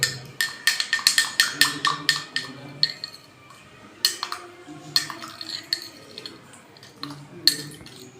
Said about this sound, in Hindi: एक चम्मच डालते हैं, उसके बाद मिक्स कर देंगे।